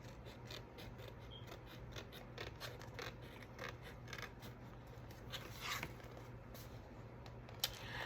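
Scissors snipping through a cardboard Kleenex box being altered for a craft, a few close, quiet cuts and scrapes over a steady low hum.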